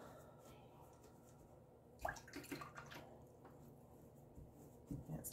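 An acrylic painter's water cup being rinsed out, with faint sloshing and splashing bursts around the middle and again near the end over a quiet room background.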